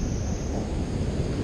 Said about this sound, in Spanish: Esa ola tenía como 7 metros de grande.